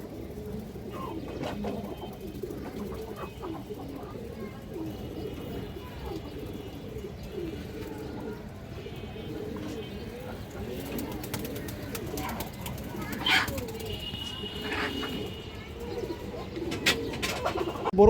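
Pigeons in a loft where a large green-necked, red-geared male is kept, soft repeated cooing and occasional chirps over a quiet background, with faint speech.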